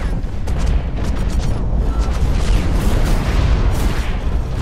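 Continuous barrage of missile blasts in the mech shooter Hawken, dense booming explosions piling on one another at close range, loud and sustained with no talk.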